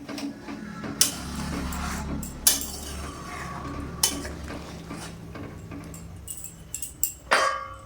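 Chicken and potato curry is stirred in a metal pot, with a spoon scraping the bottom and sharp clinks against the side at irregular intervals over a low background hum, close up and without talk.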